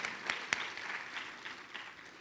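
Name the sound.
audience applause for parents and families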